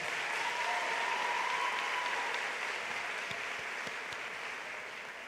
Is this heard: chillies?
no